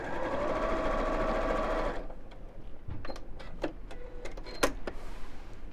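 A sewing machine stitching a fabric seam, a fast steady mechanical whirr for about two seconds, then stopping and leaving scattered clicks and light handling taps of fabric and pins nearby.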